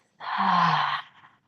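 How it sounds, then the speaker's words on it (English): A single deep, breathy exhale through the mouth during a vinyasa yoga session, close and audible, about a second long, fading gently at the end, alone without any talk. "And exhale through the mouth."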